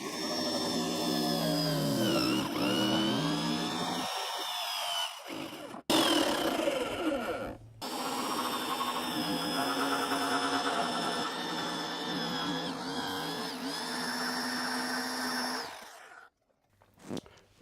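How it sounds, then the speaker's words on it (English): A power jigsaw cuts through a wooden laundry panel, its loud buzzing whine running steadily with pitch wavering under load, stopping briefly twice before resuming and finally cutting out. "let's jigsaw the rest of this out"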